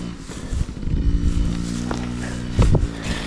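A child rides a Yamaha PW50 small dirt bike, its engine buzzing steadily with a sharper rev burst near the end, heard outdoors on a cold winter day.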